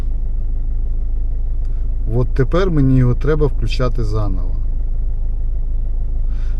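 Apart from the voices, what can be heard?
car engine running after being started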